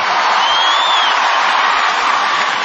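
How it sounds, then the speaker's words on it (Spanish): An audience at the Viña del Mar festival applauds the orchestra with a steady, dense wash of clapping and crowd noise that holds evenly loud throughout, with a faint whistle or cheer rising briefly within it. "Quiero pedirles que el primer aplauso de esta noche se lo regalen a los chicos de la orquesta que me acompañan"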